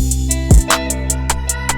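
A beat plays with a single punchy kick drum, sustained tonal layers and regular crisp hi-hat hits, with no deep sub-bass line.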